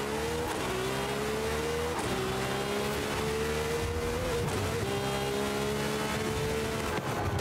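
In Forza Horizon 5 at Blue Lagoon, a race car engine drones steadily and loudly, pitch climbing through gears with repeated drops at each shift across the stretch.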